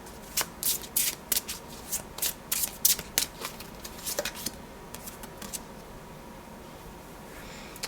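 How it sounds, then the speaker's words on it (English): Soul Journey oracle cards are shuffled in quick, rhythmic riffles, a dozen or so crisp close bursts over several seconds, then a few softer slides as a card is pulled, no speech. "So I'm going to pull one of these Soul Journey cards"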